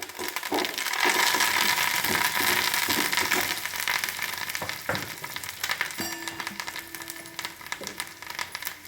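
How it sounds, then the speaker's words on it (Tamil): Onions and curry leaves frying in a pan for a sweet potato stir-fry, a steady loud sizzle with occasional clinks and scrapes of stirring throughout. "நல்லா கிண்டி விட்டு வதக்குங்க. வெங்காயம் வதங்கிடுது."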